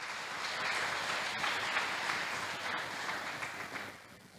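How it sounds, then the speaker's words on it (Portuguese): A church congregation claps steadily for a few seconds, a dense wash of hand claps heard at moderate distance, fading slightly toward the end. "Dá uma salva de palmas para Jesus."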